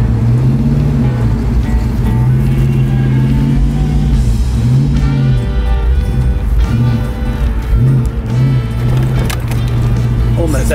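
An abandoned Lamborghini-styled Mustang, neglected for years, pulls away with a loud engine whose pitch rises and falls as it revs through the gears, close by, while people talk over it.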